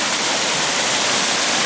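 A stream on the Appalachian Trail north of Damascus, Virginia rushes under a small footbridge, making a steady, close, broadband wash of flowing water with no talking.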